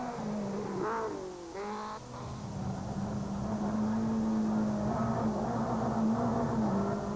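A Volkswagen Polo rally car with a misfire runs on a rally stage at the Tzaneen Rally in 2006. Its engine holds a steady, droning note that wavers in pitch early on and then stays sustained and moderately loud.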